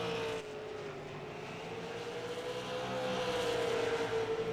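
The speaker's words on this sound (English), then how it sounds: "The car, you can hear it just when it goes by here. It sounds like a bunch of plumbers banging on empty pipes." Race car at Myrtle Beach Speedway, a half-mile night oval, droning past with a rising engine whine that grows louder toward the end, heard from the stands at moderate distance.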